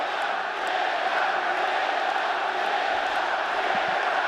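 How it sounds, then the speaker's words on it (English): A packed arena crowd at a UFC fight in Abu Dhabi roars steadily, a dense sustained cheer with scattered shouts that holds at full volume throughout. "Pro-Yan crowd being heard from early as expected."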